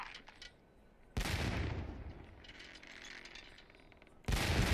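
Cannon broadside from a sailing ship in the Sea Dogs naval game, heavy booming bursts at the start and end framing a rolling, rumbling stretch of gunfire and sea noise, loud and close with no talking.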